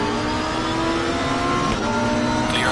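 Race car engine in Assetto Corsa Competizione, a loud, sustained, steady drone of a high-revving engine at full throttle, close and continuous, with a rising pitch sweep near the end.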